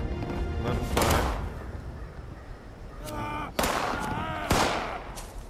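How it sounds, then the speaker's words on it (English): Gunfire in the video game Fallout 76: a few loud, sharp shots at irregular gaps over a steady, noisy game background, with a brief tonal sound between them. "It's a good thing they stopped shooting."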